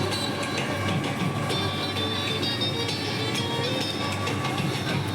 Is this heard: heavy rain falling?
no